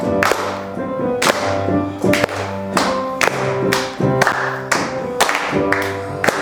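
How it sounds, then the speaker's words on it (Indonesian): Children clap their hands together in a steady beat during a kids' church worship service, sharp regular claps about once a second over a backing song. "jadi tepuk tangan semua."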